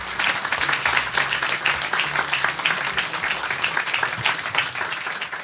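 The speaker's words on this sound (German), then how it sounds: "Begrüßen wir mit einem kräftigen Applaus" A live audience at a football club podcast recording gives loud, sustained applause to welcome three players, with thick crowd clapping that stays strong throughout and no speech over it.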